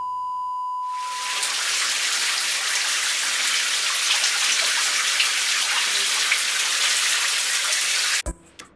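A running shower sprays a steady, loud hiss of falling water that starts after a brief quieter moment and continues without a break until it cuts off abruptly near the end.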